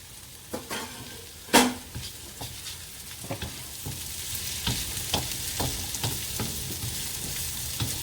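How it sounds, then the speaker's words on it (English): Red and green peppers fry in a pan for pasta, a steady sizzle with repeated sharp scraping and clinking of stirring utensils against the pan, close and fairly loud, no talk. "now we are going to throw in the red and green peppers. Give it a good mix."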